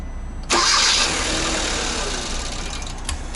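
A car engine with a throttle body fault cranks and fires with a sudden loud burst, runs roughly for a few seconds and fades toward a stall, close and without talk.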